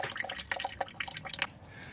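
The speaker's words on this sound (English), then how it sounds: "This is how I extract the juice from the peeling skin." Juice drips steadily from peeling skin as it is squeezed and extracted, a run of small close wet drips and splashes over about a second and a half before quieting.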